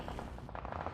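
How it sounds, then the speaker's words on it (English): Rapid gunfire in PUBG Mobile during a competitive esports match, as a player shoots at a door, a dense burst of shots lasting about a second with no talking. "Shots from Hamodi trying to open that door"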